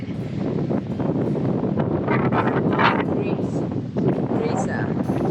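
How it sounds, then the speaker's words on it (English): Strong steady wind buffeting the microphone on a huge open hillside along the Wicklow Way hiking trail in Ireland, a constant roar with gusty swells throughout. "lot of wind because of such a huge open."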